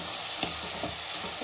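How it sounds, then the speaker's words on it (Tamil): Tomatoes sautéing in hot oil for a dried-fish curry: a close, continuous sizzle with a few soft stirring scrapes, no voices. "தக்காளி நல்லா வதங்குது கொஞ்சம்"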